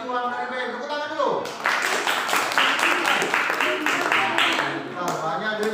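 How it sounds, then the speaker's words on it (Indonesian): Classroom applause from students after a correct answer, a burst of clapping that starts after a teacher's voice and continues steadily, with voices mixed in. "Tepuk tangan dulu."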